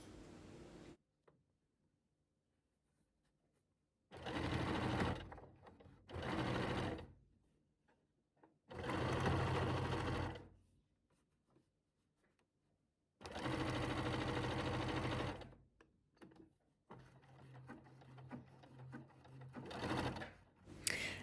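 A domestic sewing machine stitching cotton half-square triangle quilt blocks for a windmill pattern runs in several close, loud bursts of a few seconds each, separated by quiet pauses, with a longer, more broken run of stitching near the end.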